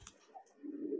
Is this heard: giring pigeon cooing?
yes